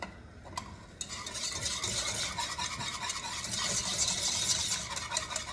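Mac and cheese being stirred in a pot, a steady scraping and wet, sticky swishing that grows busier after a brief quieter opening, close and fairly soft with no talk.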